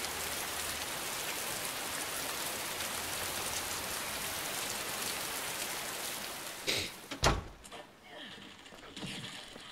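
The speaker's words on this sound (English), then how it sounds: "Dang, it's raining hard." Heavy rain in the video game Heavy Rain pours as a dense, unbroken hiss for most of the stretch, then eases as a few mechanical clunks and rattles break through near the end.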